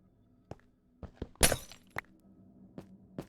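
Blocks clicking into place while building a shulker farm in Minecraft Bedrock: a string of short, crisp taps with one louder shattering burst near the middle, each sound isolated against a quiet background.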